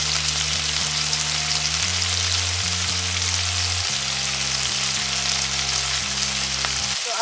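Chicken satay sizzles steadily in a hot pan, with a dense frying hiss throughout and occasional soft scrapes and knocks as the pieces are stirred; no voices.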